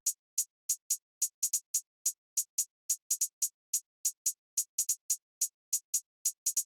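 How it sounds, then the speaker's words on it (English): A crisp, bright hi-hat plays alone in a rapid, swung UK drill pattern of ticks with quick doubled rolls, steady and close. "So I just found this perfect kind of standard drill hi-hat pattern."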